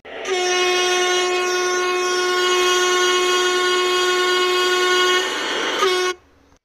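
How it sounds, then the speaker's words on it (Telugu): A long, loud horn from an arriving train blares steadily for several seconds, then gives a short final blast and cuts off. "ట్రైన్ వచ్చేసింది మనది"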